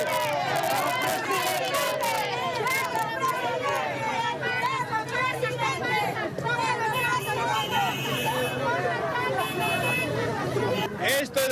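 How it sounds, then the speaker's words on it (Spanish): Supporters of Pedro Castillo cheer and call out in a dense, continuous crowd roar with shouting voices at a campaign event in Chota, sustained and loud throughout. "medio de la ovación de sus seguidores."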